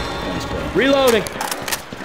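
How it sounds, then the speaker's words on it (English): A gun is reloaded in the zombie shooter Left 4 Dead. A short shouted voice comes first, followed by a few quick mechanical clicks and clacks of the weapon. "Reloading!"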